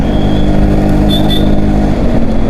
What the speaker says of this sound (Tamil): O full traffic